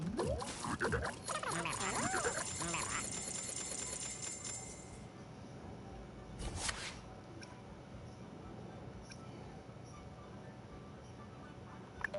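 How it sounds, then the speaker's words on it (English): Puppies yip and whimper in high, wavering cries through the opening seconds, then fade beneath a steady background hum, with a short burst of noise near the middle. "Barking puppies."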